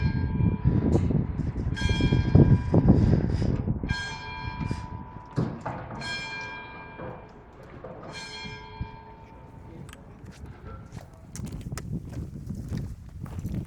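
Church bells peal at noon in a village near Portree, with several bright, ringing strikes that overlap and decay. Low rumbling ambient noise and footsteps sit beneath, and the bells fade out toward the end.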